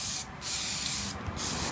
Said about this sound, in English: Spray and then go like that.